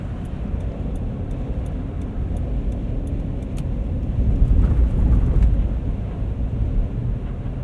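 A Lexus GX 460 on Cooper Discoverer AT3 4S all-terrain tires drives through deep snow and slush, a steady broadband rumble of engine and tire noise that swells slightly midway, with no talking.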